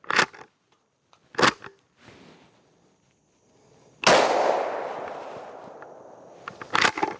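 Winchester SXP Marine Defender shotgun firing: a few sharp, loud blasts spaced seconds apart, one followed by a long echoing decay outdoors.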